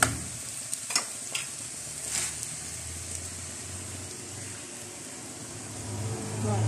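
Food gets stirred and turned in a frying pan for a spicy homemade dish, with soft scraping clicks over a continuous low sizzle and a faint background rumble.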